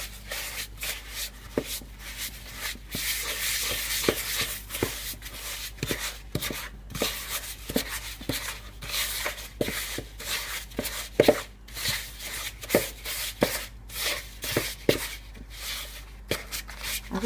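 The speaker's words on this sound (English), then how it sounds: "we start off by creaming together the butter and the sugar" Butter and sugar being creamed together in a mixing bowl for Easter biscuits, giving a steady run of scraping, rubbing strokes with soft clicks throughout, close and moderately loud, with no talking.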